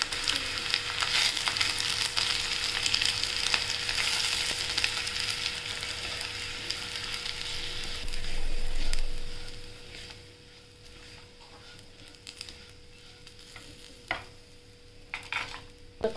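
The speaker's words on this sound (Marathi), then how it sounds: "डेसिकेटेड खोबरं टाकलंय, ते पण ब्राऊन होईपर्यंत परतून घेऊया।" Desiccated coconut stirred and roasted in a pan until brown while making spicy red pumpkin bhaji, a soft frying sizzle with spatula scraping that fades quieter toward the end.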